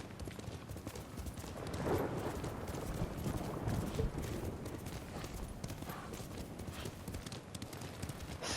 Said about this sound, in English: using the horse will be the best option here